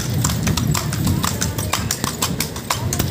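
Horse hooves clip-clop steadily on pavement as the animal pulls a kalesa carriage, an even trotting rhythm heard up close over road and wind noise.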